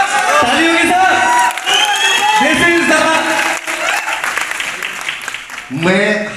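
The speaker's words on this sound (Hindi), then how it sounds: "ताली होगी साहब" Audience applause and cheering at a film festival event for the Haryanvi film team, loud and close, a dense clapping crowd with shouts mixed in, fading briefly midway before swelling again near the end.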